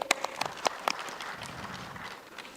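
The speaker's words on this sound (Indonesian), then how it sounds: "Kita beri aplaus kembali." Scattered applause from the audience at a 2024 Bitung mayoral and deputy mayoral candidates' public debate, a few sharp claps early on thinning into soft, distant clapping.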